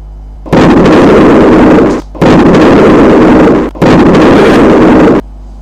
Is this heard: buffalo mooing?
no